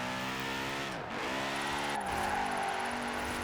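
Audi RS5 with a V8, set up rear-wheel drive for drifting in Forza Horizon 4, revs hard and steady with engine harmonics sweeping down and back up at two gear changes, loud and continuous with a hint of tire squeal.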